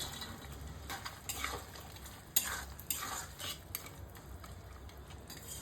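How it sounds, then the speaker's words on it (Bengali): Tangra fish simmering in a pan of well-cooked spice paste as water is added, with close, steady sizzling and a few clinking spoon knocks against the pan, no voices. "এর মধ্যে এবার জল দেবো এরপর ভেজে রাখা ট্যাংরা মাছ"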